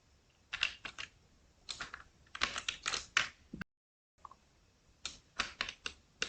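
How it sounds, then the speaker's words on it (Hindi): A computer keyboard is tapped in quick bursts of keystrokes while a C program is typed. Short clusters of clicks are separated by brief pauses, and there is one near-silent gap midway. No voices are heard. "ये हमारा बेसिक प्रोग्राम टाइप हो गया।"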